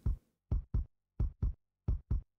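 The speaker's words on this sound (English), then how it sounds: "the walking sounds like a heartbeat" Walking footsteps in the Bill & Ted's Excellent Adventure video game thump in paired beats like a heartbeat, three double thuds at a steady, slightly quick pace, clear and isolated against silence.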